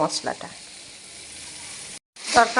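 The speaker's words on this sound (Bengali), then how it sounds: "মশলাটা দিলাম, আবারও কিছুক্ষণ কষিয়ে নেব" Spice masala frying in oil for an egg tadka, a steady close sizzle with a few stirring clatters at the start, a brief gap, then a louder burst of sizzling and scraping.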